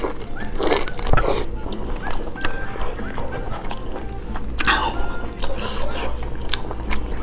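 Someone bites into and chews hot Chinese blood sausage close to the microphone, with wet biting and mastication sounds at an irregular pace and occasional crunchy snaps, while voices murmur in the background.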